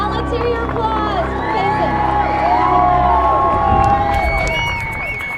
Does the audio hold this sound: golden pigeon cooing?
no